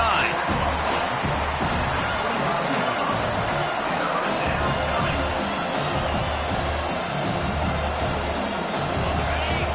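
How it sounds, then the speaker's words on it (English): A stadium crowd in a college football video game roars without a break, loud and dense, with a general rumble and scattered thuds under it, building on a third down. "Decibels rising as the crowd gets behind this defense on 3rd down"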